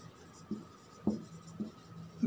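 A chemistry reaction being written on a board in a class 12 lesson, four short marker or chalk strokes spaced about half a second apart, close and fairly soft, without talk.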